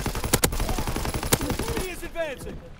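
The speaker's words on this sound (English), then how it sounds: "How are they shooting me through solid bits of metal?" Gunfire in Call of Duty: WWII multiplayer war mode, a few sharp shots cracking out early, then a burst of clustered reports, with a voice talking over the battle noise.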